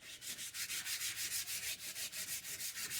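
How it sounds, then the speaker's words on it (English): Rapid, steady back-and-forth hand sanding strokes with 220-grit sandpaper, close up and rhythmic, the gritty rasp repeating about five times a second with no voices. "I want to show you just how fast you sand these down"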